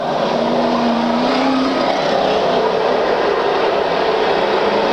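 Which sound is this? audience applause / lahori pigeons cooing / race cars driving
race cars driving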